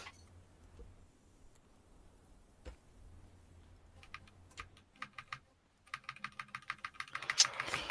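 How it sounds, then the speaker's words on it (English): Computer keyboard typing during Scrap Mechanic multiplayer survival voice chat: faint scattered key clicks at first, then a rapid, louder run of close keystrokes near the end. "the sound effect of hitting the keyboard's louder than the actual game"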